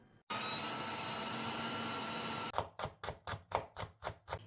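Meat being fed through a meat grinder for minced filling: after a short pause a steady whirring motor hum runs for two seconds, then gives way to a series of about eight regular, chunky grinding pulses, close and moderately loud, with no talk.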